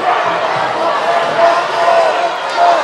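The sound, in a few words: displeased volleyball crowd reacting to a disputed lift call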